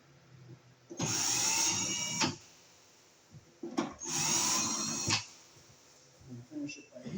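Power screwdriver driving screws into an electrical receptacle box for a 240-volt twist lock outlet, two close whirring bursts of about a second each, separated by quiet handling noises.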